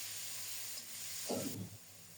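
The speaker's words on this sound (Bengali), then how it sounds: "এখন দিয়ে দিলাম পেঁয়াজ আর রসুন বাটা।" Onion and garlic paste dropped into a pan of fried dried fish, a steady close sizzling hiss that swells briefly with a soft thud as the paste lands, then settles back, no talking.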